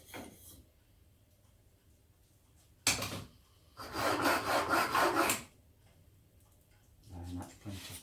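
A chisel is sharpened by hand on a stone, giving close scraping strokes: one short rub, then a longer sustained rasping pass, then a weaker stroke near the end, with a person talking nearby.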